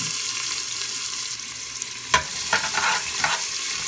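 Steady sizzle of chopped onion frying in oil, with a few clattering stirs and scrapes partway through.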